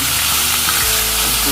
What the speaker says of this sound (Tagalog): Ngayon po ay mainit na yung ating mantika. Prito na natin yung ating tilapia.